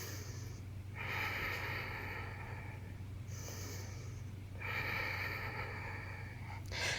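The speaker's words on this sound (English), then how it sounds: "Listen to the sound of your breath." Slow, deep breathing through the nose during a power flow yoga session, long rushing inhales and exhales close to the microphone over a steady low background hum, no talking.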